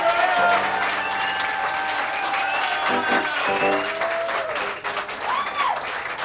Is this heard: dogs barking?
no